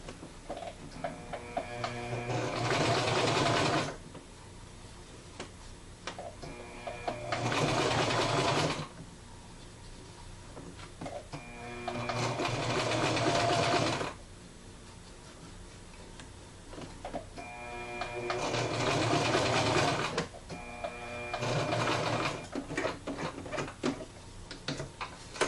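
A sewing machine stitches pleated ribbon in four or five bursts of rapid, even ticking separated by short pauses, close and moderately loud with no talk.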